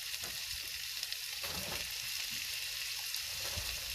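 Pancetta and onion fry for a homemade Italian tomato sauce with a continuous close sizzle and hiss, broken by a few soft stirring scrapes, with no voices.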